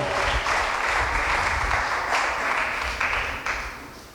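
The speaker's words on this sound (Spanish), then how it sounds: "¿Cuánto le dan un aplauso al Señor?" Steady applause from a church congregation during a Sunday service, sustained and fairly full for a few seconds before tapering off slightly at the end.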